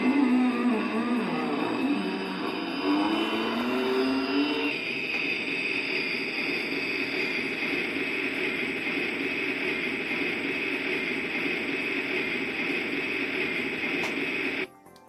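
A continuous mechanical grinding drone from a 2008 Legacy Collection Millennium Falcon toy's engine sound effect, whirring and buzzy, steady and close, shifting pitch early on before settling into a sustained hum until it cuts off.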